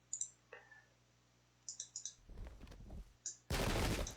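In the Pike and Shot strategy game, scattered interface clicks and short bursts lead into a loud, dense crackle of musket volley fire at the end, with a muffled rumble in the middle.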